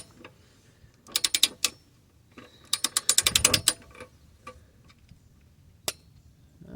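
A ratchet tightens nutsert bolts, giving two quick bursts of sharp clicking pawl strokes followed by a few isolated clicks, close and clear with no talk.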